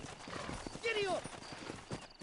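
A horse in Red Dead Redemption clip-clops along with a short whinny in the middle, the hoofbeats steady beneath a man's spoken urging.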